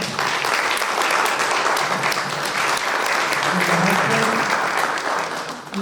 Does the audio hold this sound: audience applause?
yes